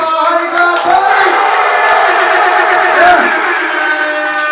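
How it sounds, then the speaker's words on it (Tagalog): A crowd at a Filipino rap battle roars, shouts and cheers in a loud, sustained wall of voices that barely lets up. "malakas sa palapakan at sigawan ng bahay kapay"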